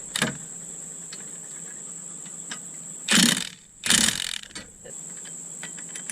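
Ratchet tightening a bolt on a 1998 VW Beetle CV axle: two loud bursts of rapid clicking close by, with a steady high-pitched whine underneath and brief knocks between.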